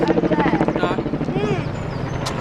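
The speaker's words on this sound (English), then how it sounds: "Helicopter." Helicopter flying overhead near the Stratford Olympic Park velodrome, a loud rhythmic rotor chop that pulses steadily and then eases slightly as it passes, with people talking nearby.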